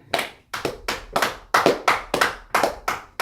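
A church congregation claps in a steady rhythmic beat, about three claps per second in sharp repeated bursts, loud and close with no talk over it.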